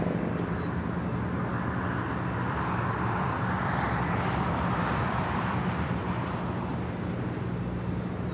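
A Boeing 787 Dreamliner jet at LAX airport gives a steady, moderately distant roar that swells slightly mid-way, with a faint high whine over broad airport ambience and no talk.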